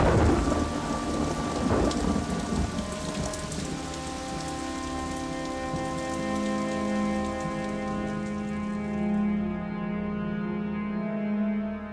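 Heavy rain pours steadily on a surface while deep thunder rumbles roll underneath, a dense, continuous storm wash filling the whole stretch with no voices.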